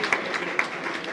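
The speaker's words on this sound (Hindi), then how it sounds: "ज़ोरदार तालियां सर के लिए" Audience applause for a guest speaker at a Hindi-section talk: a dense, moderately loud patter of clapping with a couple of sharper claps standing out, continuous and with no voices over it.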